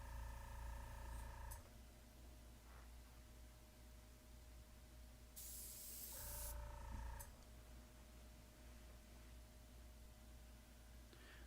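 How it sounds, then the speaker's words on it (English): Airbrush spraying airbrush cleaner, a soft steady hiss of air and mist running throughout, with brief louder bursts and a low compressor hum underneath, no talk. "I'm running airbrush cleaner through my airbrush."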